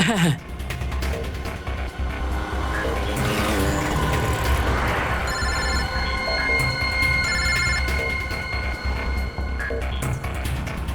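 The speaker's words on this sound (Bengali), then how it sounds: "ফোন কর, তাড়াতাড়ি ফোন কর ওকে।" A phone rings out repeatedly during an unanswered call in a tense street scene from a crime drama, with steady electronic tones layered over constant traffic and vehicle noise.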